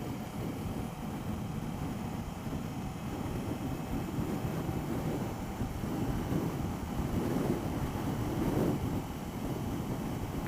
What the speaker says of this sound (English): Catching that wind again now